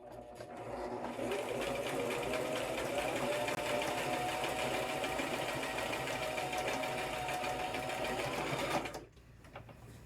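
A sewing machine stitches a quilt, running at a steady fast whirring hum for about eight seconds close to the listener and then abruptly stopping.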